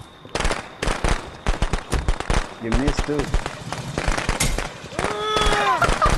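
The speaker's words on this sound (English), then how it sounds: "Let me start the cracker and put the firecracker." Firecrackers pop off outdoors in a rapid string of sharp bangs, some spaced apart and some in dense bursts, near and loud, with people shouting and talking between them.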